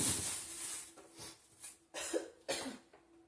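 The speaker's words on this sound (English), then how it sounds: "Thank God it doesn't hurt so bad when I cough" A person coughs several times in a row, harsh, close bursts separated by short pauses and breaths.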